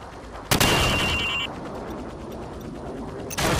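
Rifle fire at downrange targets in the Call of Duty 4: Modern Warfare training range on Xbox One, with two sharp loud shots about three seconds apart, each followed by a short mechanical rattle, over a steady game ambience.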